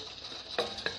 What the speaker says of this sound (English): It's frying. The whole skillet is covered with eggs.